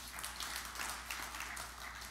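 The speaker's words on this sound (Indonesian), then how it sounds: "Tepuk tangan yang meriah bagi Tuhan." A church congregation gives a faint, continuous round of applause: soft, dense clapping sustained for a couple of seconds, heard at a distance.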